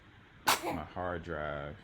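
One sharp, loud sneeze bursts out close to the microphone, followed at once by a person speaking.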